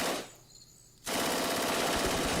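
Artillery fire in the wargame John Tiller Panzer Campaigns: a loud burst sounds, drops away briefly, then a dense sustained roar of explosions and shots fills the rest.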